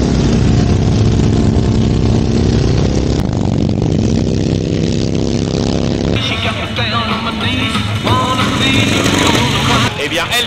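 Flat-twin motorcycle engine at a Normandy beach race, a loud continuous rumbling drone with revving swells, mixed with other engines and crowd noise throughout, a voice talking over it.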